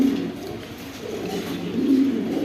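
Pigeons at a pigeon farm, including a pair of Gola pigeons, keep up a low, steady cooing that swells slightly near the end, with no talk.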